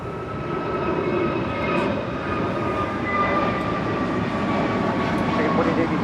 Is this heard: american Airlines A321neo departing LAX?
yes